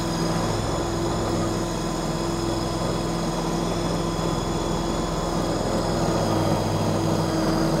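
Steady, loud engine drone of a KYMRON stand-on skid steer with throttle raised while driving, a continuous mechanical hum running the whole time with no talk.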